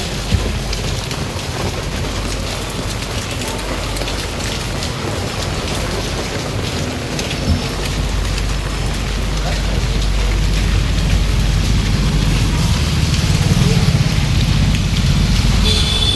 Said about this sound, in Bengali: একদম বৃষ্টি হচ্ছে দেখো কিরকম